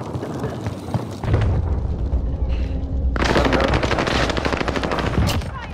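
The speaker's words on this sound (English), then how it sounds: "Receiving hostile fire." Rapid machine-gun bursts and heavy booming blasts in a battle royale shooter, starting sparse and then erupting into loud, continuous automatic fire and explosions that carry on to the end.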